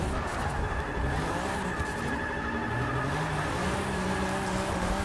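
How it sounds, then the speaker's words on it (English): A BMW E36 M3 drifting in the racing game Forza 6, its tires squealing in a long continuous screech over a steady, loud engine roar with no break. "But hey, I'm drifting, so I'm not mad."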